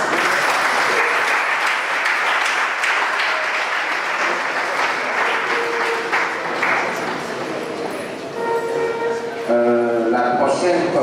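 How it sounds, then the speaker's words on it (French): Sustained audience applause at a conference festival inaugural session, loud and dense throughout, with some voices and faint tonal sounds mixing in near the end. "Nous allons le raccompagner à sa place par un applaudissement."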